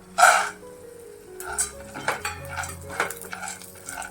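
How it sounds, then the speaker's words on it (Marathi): A sharp metallic clatter and rattle as groundnuts are tipped into a hot pan of oil for chutney, followed by scattered spoon clinks and light scraping against the pan, close and intermittent with no talking. "आता मी दाणे घालते याच्यात"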